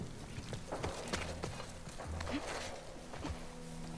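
Horse hooves clip-clop in The Last of Us Part II, a quiet uneven run of soft thuds and footfalls moving through the game scene.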